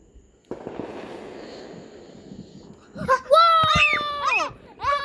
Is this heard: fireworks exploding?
yes